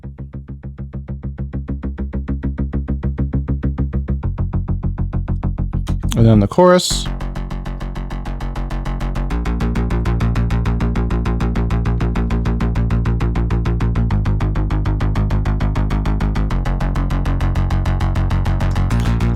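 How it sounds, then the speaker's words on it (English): A synthwave bass line from Logic's ES2 classic synth bass preset pulses in steady, even repeated notes, broken by a short noisy burst partway through, then thickens into fuller sustained chords under the chorus; a voice briefly speaks early on. "we're using the classic synth bass preset here from Logic for the ES2"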